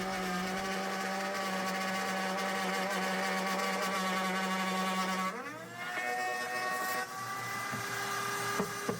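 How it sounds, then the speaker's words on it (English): A power router whines steadily at high speed, its pitch dropping and shifting midway as it bites into ash wood cutting a mortise for a Shaker table, loud and close with no voices. "Here I used the router to make the mortise itself."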